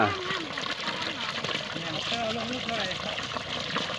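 Water pours steadily from a solar-powered pump outdoors, a continuous rushing flow heard close. A person talks over it throughout.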